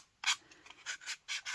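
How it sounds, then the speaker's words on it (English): A sanding block rubs along chipboard edges to round them off, producing a handful of short, dry scraping strokes at close range, spaced irregularly with brief pauses between, and no voices. "then I round off these edges with a sanding block"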